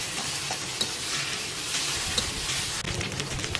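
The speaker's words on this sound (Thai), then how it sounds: "จากนั้นก็ผัดนะคะให้ผักกาดของเราสุก" Steady crackling sizzle of cabbage stir-frying in a hot pan, with occasional scrapes and tosses, continuous and close.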